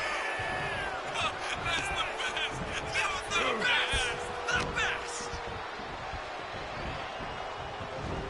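Wrestling arena crowd at a King of the Ring event, a loud sustained roar with rising cheers and whoops, heard under a commentator's voice talking throughout.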